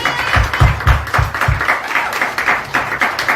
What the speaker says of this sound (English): Clap for Joe Cavison.